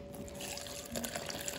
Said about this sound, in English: you're just gonna pour it